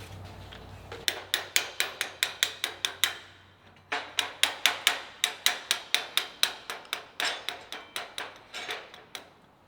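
Sledgehammer tapping a hub wheel plate during a junkyard go-kart build: two long runs of sharp, ringing metallic strikes, evenly paced and close, with a short break between the runs.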